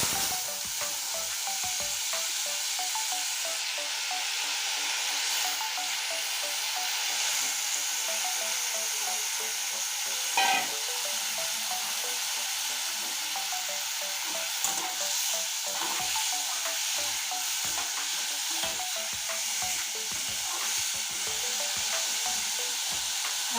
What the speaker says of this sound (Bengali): এখন আমি এই আলু ভাজা আলুটুক দিয়ে দিচ্ছি